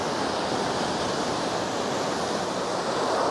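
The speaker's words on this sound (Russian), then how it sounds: "Ух, какие тут волны приходят, ребятки." Surf breaking steadily on a shore near Sukko by Anapa, a continuous loud wash of rolling waves with no pauses, close by and alone without voices.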